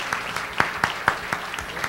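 Scattered applause from an audience at a 2014 national dementia management workshop, a handful of distinct, separate claps spaced irregularly rather than a full ovation.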